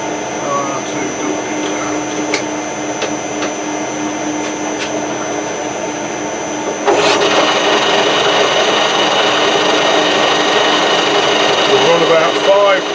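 A metal lathe spinning at roughly 320 rpm while machining an ER32 collet holder, giving a steady mechanical whine and hum that grows louder and fuller about halfway through.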